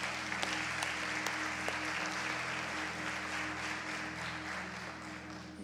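A church congregation applauds steadily during a sermon, broad dense clapping holding at an even level throughout with a low hum of music or room tone underneath.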